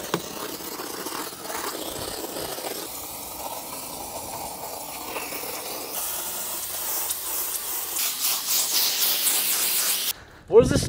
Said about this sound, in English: you can use steam to kill bacteria and all that